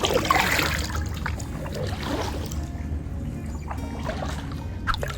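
A kayak glides along marked trails through mangroves in Largo Sound at Pennekamp in the Florida Keys, giving a steady wash of trickling water and soft paddle splashes with no talking.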